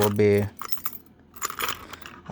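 A bunch of vintage keys jangles close up, a brief metallic rattle and clink that comes in two bursts with a pause between them.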